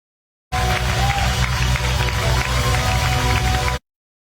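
A large crowd at a church gathering claps and cheers steadily in dense, loud applause that holds evenly for about three seconds to welcome Apostle Jonathan Mongali, then cuts off abruptly.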